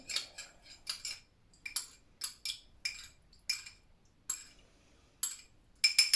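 Ingredients mixed in a bowl with a utensil, giving a steady series of bright metallic clinks and scrapes in irregular rhythm, close and fairly quiet, with no talk.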